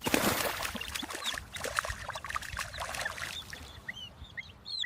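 Several short, nasal duck quacks sound over a busy backdrop of splashing and rustling noise, sometimes overlapping, fairly faint and scattered throughout.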